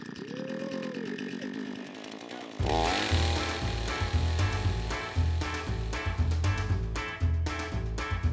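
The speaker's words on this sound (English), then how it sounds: "Man doesn't do a split to start a chainsaw." Chainsaw started and run while cutting firewood, a loud, steady two-stroke roar with rhythmic revving bursts after a short quieter lead-in, close up and alone without talk.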